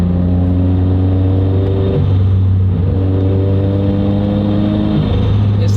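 A loud turbocharged car engine revs and holds a strong, droning note close by, with pitch shifts as the throttle changes and a brief sharp hiss near the end.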